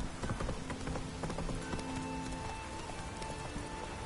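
Horse hooves galloping along a road in the video game The Witcher 3: Wild Hunt, a steady, fast clatter of clip-clop beats under a continuous ambient game soundscape with faint rain-like texture.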